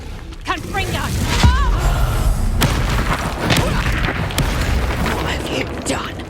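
A Confringo fire-blast spell from the Hogwarts Legacy video game, heavy booming bursts and crackling impacts amid a dense, loud combat mix.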